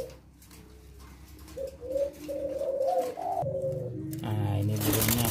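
Spotted dove of the leopard silver variety cooing close by in a series of soft, low, rounded coos, with a brief faint voice and rustling near the end.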